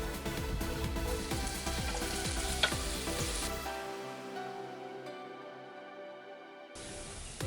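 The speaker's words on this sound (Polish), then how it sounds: "Rozgrzejemy je i będziemy smażyć cebulę" Steady hissing sizzle of onion frying in a hot pan, with occasional stirring clinks; the sizzle thins out partway through, then briefly returns.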